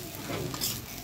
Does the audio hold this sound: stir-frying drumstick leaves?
yes